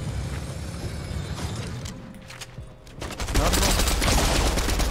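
Gunfire in the Fortnite video game: scattered shots and faint background sounds give way to a dense, loud burst of rapid automatic fire, with muffled voices talking over parts of it.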